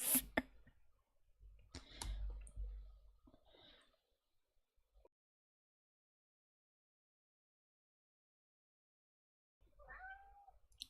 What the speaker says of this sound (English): She just meowed, although you probably couldn't hear it over the music.